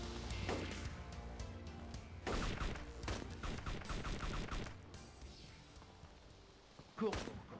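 Gunfire in the video game DayZ comes as a few quick volleys of shots, fairly faint, over a low sustained background tone.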